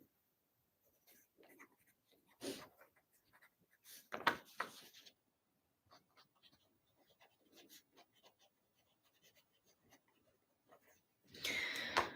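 A pen scratching a note onto paper, in short irregular bursts of close, quiet scribbling separated by pauses, with faint breathing and a louder rustle at the end.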